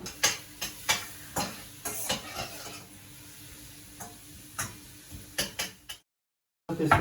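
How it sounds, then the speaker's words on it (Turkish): Onions sizzle softly in a pot while a spoon scrapes and stirs in repeated strokes, then a brief silence before the noise returns. "Bu arada soğan tenceremiz iyice ısındı. Onu bir karıştıralım."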